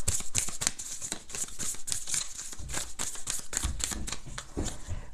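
Oracle cards being shuffled for a card reading, a close, busy run of crisp papery riffles and flicks that continues steadily with no pauses.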